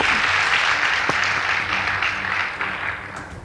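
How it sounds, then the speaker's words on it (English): Audience at a school debate competition applauds the Loreto High School Limuru team, a full continuous wash of many hands clapping, steady and loud with no talk over it. "Please give them a round of applause."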